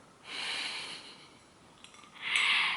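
Two long nasal sniffs taken close to a hand balm, separated by a short pause, the second one stronger.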